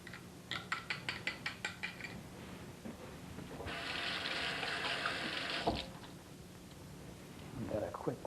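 Tap water runs in a quick rinse of kitchen utensils while preparing a meringue-style dessert with beaten egg whites, a broad steady splashing burst lasting a few seconds after some clinking, in a kitchen setting.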